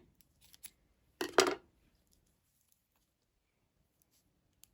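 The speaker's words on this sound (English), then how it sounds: "now you're going to cut your yarn" Scissors cut through crochet yarn in one brief, crisp double snip, close up in otherwise near silence with a few faint clicks before and after.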